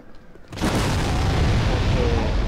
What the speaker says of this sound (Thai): ก็เราก็มาอยู่แถวๆนี้นะครับให้มันปาระเบิดมา